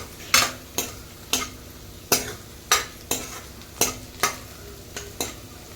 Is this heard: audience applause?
no